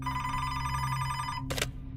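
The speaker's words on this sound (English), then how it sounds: "Ruth was home in the same house she had shared with Chuck when her phone rang" A telephone bell rings steadily and loudly for well over a second, then stops; a brief noisy burst and low hum continue beneath, with no talking.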